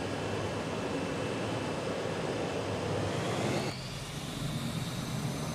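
Steady, loud drone of a small bush plane's engine building for takeoff in a flight simulator game, broadband and continuous, with a slight drop in level near the end; no talking.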